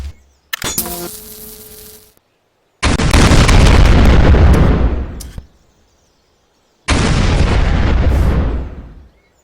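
Video game bombs from a Garry's Mod gbombs addon detonate in a sharp crackling burst followed by two huge booming explosions, each a loud sustained roar that decays, separated by near silence.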